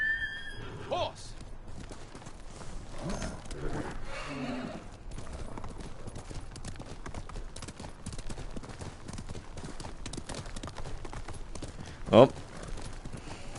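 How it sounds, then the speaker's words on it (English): Galloping horse hooves in Ghost of Tsushima, a steady clip-clop rhythm throughout with a neigh near the start and a loud whinny near the end, while someone talks briefly. "Horse!"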